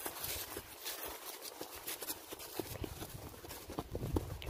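Horse hooves clip-clop at a walk on a dairy cattle farm, a steady run of moderately loud hoofbeats heard alone without talk.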